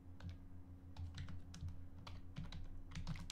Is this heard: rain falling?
no